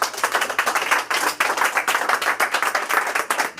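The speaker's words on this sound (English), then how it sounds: "Give yourselves a massive round of applause." Rhythmic clapping from a small audience at a talk on emotional healing, fairly close, with distinct individual claps in a quick, uneven pulse throughout.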